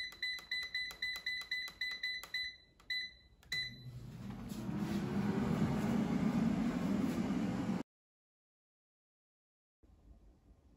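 Someone sets an air fryer cooking Hasselback potatoes at 390 degrees Fahrenheit. A quick run of control-panel beeps gives way to a steady fan whir, which cuts off abruptly into near silence.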